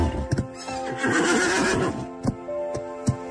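A horse lets out a loud, drawn-out neigh, and hooves clip-clop in sharp, separate strikes before and after it, close by with no talk.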